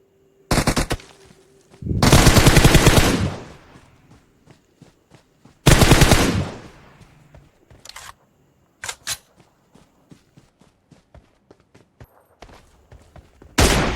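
Bursts of automatic gunfire in a mobile shooter game, with two long loud sprays, a short opening burst and a few brief volleys between quieter clicks and footstep-like ticks.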